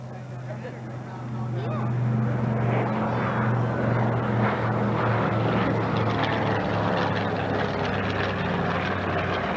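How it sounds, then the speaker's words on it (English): A PBY-6A Catalina flying boat drones overhead at an air show, its steady low propeller engine hum rising in loudness after a couple of seconds and holding, with faint voices underneath. "here he is flying it again today. Bill LeGrand in the PBY 6A Catalina."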